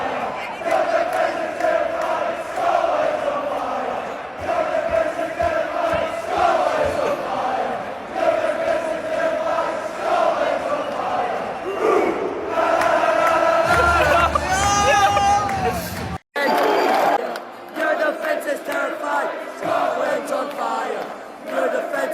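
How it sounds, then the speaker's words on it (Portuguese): A huge crowd of Scottish football fans in a World Cup stadium roars and chants together in a loud, sustained wall of voices. It swells near the end, breaks off abruptly, then resumes, with talk mixed in. "E dizem que esse foi um dos sons mais altos registrados dentro de um estádio em um jogo da Copa do Mundo."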